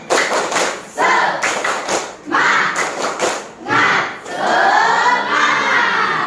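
A class of schoolchildren performs a rhythmic spirit clap, crisp patterned bursts of clapping separated by short pauses, with children's voices shouting along in chant between and over the claps, close and loud.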